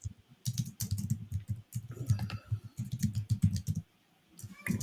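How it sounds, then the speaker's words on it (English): Someone types on a computer keyboard in quick bursts of close, clattering keystrokes, broken by short pauses, with a steadier low rumble beneath most of it. "I heard you typing."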